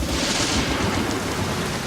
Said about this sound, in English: Oh my God, this is a storm. Where did such heavy rain come from?